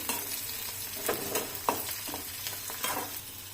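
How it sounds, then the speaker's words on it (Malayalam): Grapes sautéing in a pan as a spoon stirs them, giving a steady close sizzle with a few soft scraping strokes throughout and no talking. "എന്നിട്ട് ആ മുന്തിരിയും കൂടി ഒന്ന് വഴറ്റി കൊടുക്കണം അതിന്റെ ഒപ്പം തന്നെ."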